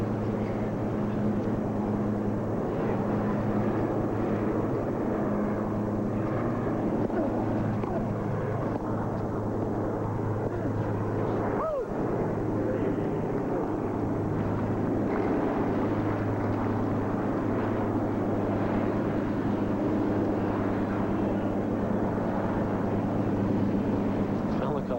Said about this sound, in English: Still looking up at that helicopter.